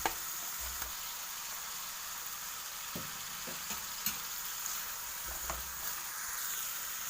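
Fish stirred into masala simmering with hot water in a pan makes a low, steady sizzle, with a few faint scrapes and light knocks from the stirring spoon.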